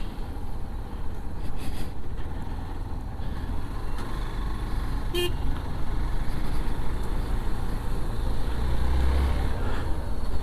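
Steady roar of traffic on the Mumbai–Nashik highway with heavy vehicles rumbling past, a continuous low engine drone and a brief sharp hiss partway through.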